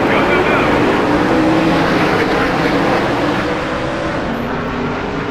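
A NASCAR Thunder 2003 field of stock cars roars off at the start of a 300-lap race at New Hampshire in Loudon, with a dense, loud engine drone that holds steady throughout and a commentator talking over it.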